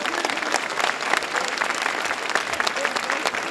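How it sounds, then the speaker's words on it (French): Audience applause at an award ceremony in Paris, a dense, loud wash of many hands clapping continuously throughout, with faint crowd murmur underneath. "avec vos applaudissements s'il vous plaît"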